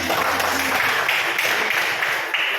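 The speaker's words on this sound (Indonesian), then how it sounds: "silakan aplaus untuk" Classroom audience clapping: dense, continuous applause from a group of students, steady and loud throughout, with a voice faintly underneath.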